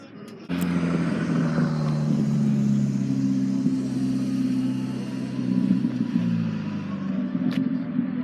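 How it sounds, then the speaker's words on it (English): A drag car with a roll cage at a car show idles and revs nearby, a loud steady engine rumble that holds for about eight seconds after a sharp start. "Drag car."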